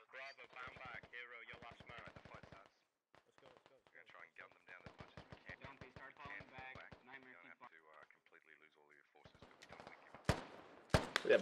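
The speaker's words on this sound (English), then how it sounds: "We have gunshots heard west of our position." In the video game Squad, sharp bursts of gunfire crack near the end, following a long stretch of people talking over radio-like chatter.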